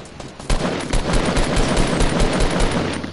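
Rapid bursts of automatic gunfire in Fortnite, a loud crack opening a string of quick, closely spaced shots that continue without pause for a few seconds.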